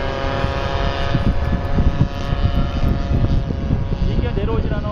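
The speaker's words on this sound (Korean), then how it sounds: "안 내려오네, 비행기가." An H9 Dual Ace RC model airplane drones steadily overhead with a continuous buzzing engine tone, loud and close, while voices talk over it.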